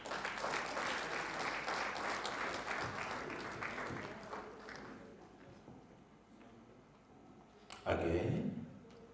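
Audience applause for an art gallery manager at an innovation showcase event, a dense wash of clapping that fades through the middle, then a brief louder burst near the end.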